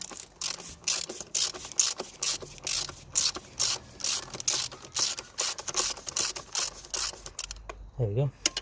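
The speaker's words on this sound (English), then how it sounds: "we're gonna be using T32 to undo the oil filter" A T32 ratchet undoes the oil filter on a 2.0 TDI VW Passat with a long, steady run of close, rapid ratcheting clicks in repeated bursts, stopping just before a brief voice at the end.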